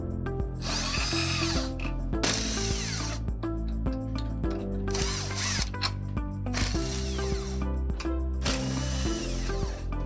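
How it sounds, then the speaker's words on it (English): Loud power drill with a 14 socket whirring in repeated bursts with short pauses, the pitch rising and dropping as it spins bolts out of a bed base, with occasional mechanical clicks. "Use a power drill with a socket 14."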